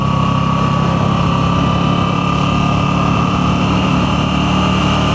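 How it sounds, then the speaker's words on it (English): Moto Guzzi V7 Sport motorcycle on its stock exhaust, a steady, loud engine drone running continuously with a low rumble, no talking heard. "I believe that I will be satisfied with this stock exhaust sound anyway"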